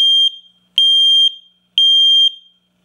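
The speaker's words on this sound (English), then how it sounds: "Testing smoke." A Nest smoke detector sounds its alarm during a test, with three loud, piercing electronic beeps in an even rhythm, each about half a second long and separated by brief silences.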